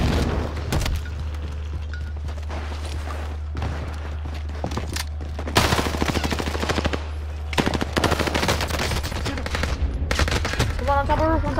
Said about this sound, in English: Try shoot again.